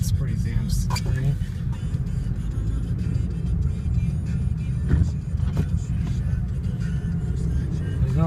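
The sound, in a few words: car driving on a slippery snowy road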